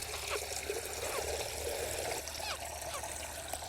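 Water is poured into a chicken's drinker, a steady trickling and splashing close by that runs for several seconds.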